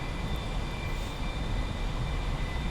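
An A-4E Skyhawk jet in the DCS flight simulator rolls down the runway for takeoff. Its engine gives a steady, loud, broadband roar with a faint high whine on top, and it sounds alone with no talk.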